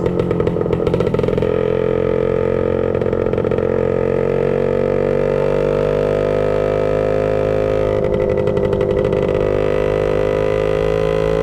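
A 1966 Suzuki Bearcat motorcycle engine runs loud and close while riding, a buzzy two-stroke drone that rises in pitch as it accelerates, with rough, rattling throttle changes near the start and again around the middle.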